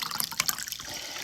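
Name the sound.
water being poured in to make snake juice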